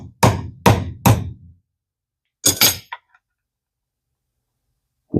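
Hammer tapping a part into its groove on a vintage French-made Centaure Caribe fishing reel, three quick sharp clinks then a pause and two more, close and crisp against silence.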